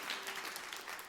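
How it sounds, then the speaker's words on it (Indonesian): Lively applause from a church congregation at a Christmas Day service, a steady wash of many hands clapping at moderate volume for about a second, with no voices over it. "Tepukan yang meriah."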